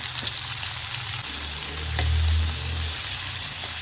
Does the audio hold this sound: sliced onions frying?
yes